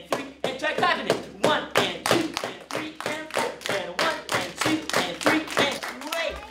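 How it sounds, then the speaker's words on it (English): Children clap an eighth-note rhythm in a summer kids' music program, a long run of sharp, evenly spaced hand claps in pairs close by, loud and steady, with an adult voice faintly counting along. "And try clapping it."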